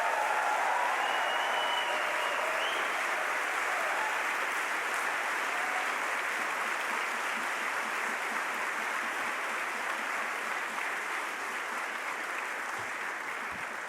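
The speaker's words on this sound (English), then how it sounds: "So graduates, I ask you to give those people who are part of this story a round of applause in honoring their hard work." Graduates at a baccalaureate ceremony applaud plant operations staff, a dense, sustained round of clapping from a large crowd filling the hall steadily without a break.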